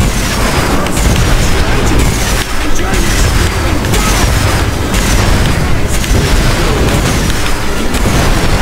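Gunfire and explosions from the kart racing game Crash Tag Team Racing, a dense, continuous barrage of booms and bursts that stays loud throughout with no clear pauses.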